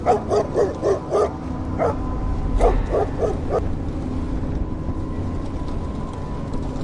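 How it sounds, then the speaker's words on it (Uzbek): A puppy yaps in quick bursts of high barks, a rapid series early then a few more, fading to background noise. "Kuchugim bo'lsa akillay boshladi va omborxonadan yugurib chiqib ketdi."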